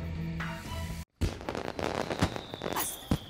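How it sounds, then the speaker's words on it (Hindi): Firecrackers burst one after another in a Hindi TV serial scene: a short music passage cuts off, then close, sharp pops and crackles follow in irregular succession. "एक एक करके सारे पटाखे फोड़ती जा रही हैं।"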